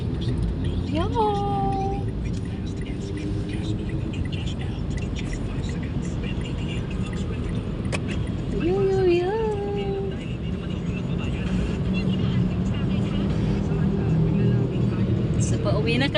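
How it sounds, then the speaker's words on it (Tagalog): Heavy road traffic of large vehicles on the way home in Delpan, Manila, a constant engine roar heard from inside a car, with a couple of brief whining tonal sounds and people talking over it. "Daming malalaking sasakyan."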